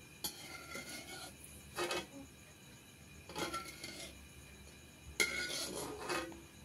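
About a kilogram of semolina is fried in ghee and stirred in a pan for kesari, with a spoon scraping and clinking against the metal in roughly four separate bursts, close and fairly quiet, with no talking.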